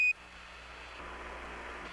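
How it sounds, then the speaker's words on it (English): Apollo 11 lunar module 1201 program alarm during the moon landing descent: a single short, high electronic beep that cuts off almost at once, leaving a steady radio hiss. "Roger, 1201 alarm."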